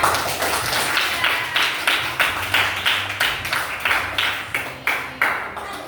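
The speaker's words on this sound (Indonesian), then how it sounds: "Beri tepuk tangan untuk kelompok." A school class claps for a group in rhythmic unison, about a dozen sharp, even beats close by, slowing slightly toward the end.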